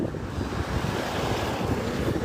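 Ocean surf at Pattaya beach in Thailand rolls in a dense, continuous roar mixed with wind buffeting the microphone, steady and loud without distinct breaks.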